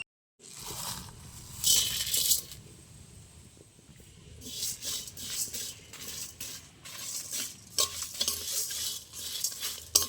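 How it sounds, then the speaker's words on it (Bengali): Whole fennel, coriander, cumin, garam masala spices and dried chillies are stirred and tossed in a dry pan, giving scraping, rattling bursts of stirring with short pauses and a light sizzle-like crackle, close and clear with no talk. "তা আমি শুকনো খোলায় এটা নেড়ে নেব একটু"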